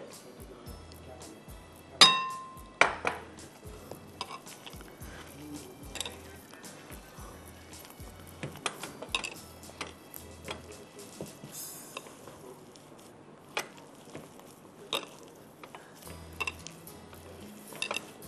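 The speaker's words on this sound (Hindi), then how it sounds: "अब इसको मुझे बहुत अच्छी तरह से मिक्स करना है।" A spoon scrapes and clinks against a bowl while cupcake ingredients are mixed, with irregular metallic taps and knocks, one louder clang early on, over a quiet kitchen background.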